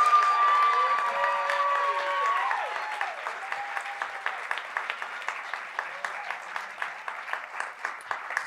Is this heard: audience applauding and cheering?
yes